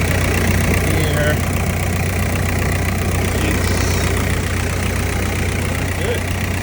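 Toyota Hiace KZH106 engine idling through a side-exit exhaust with the muffler fallen off, a steady loud low drone with a slight knocking rumble running unbroken throughout.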